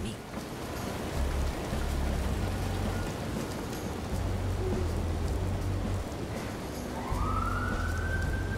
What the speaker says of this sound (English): Another cold and rainy day in Newport.